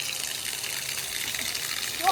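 Water from a waterfall in Moalboal, Philippines, pours down as a cold shower in a steady close rushing gush, with a voice breaking in briefly near the end.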